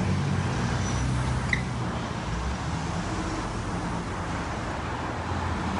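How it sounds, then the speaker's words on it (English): Traffic at a busy intersection outside a BMW dealership in Bloomfield: a continuous wash of passing cars and heavier vehicles, a steady low rumble with faint brake squeaks, moderately distant. "A busy intersection here."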